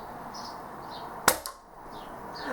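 A single sharp crack from a BAM B4 air rifle firing outdoors, loud and close, with a brief softer echo or impact right after, then quiet background noise.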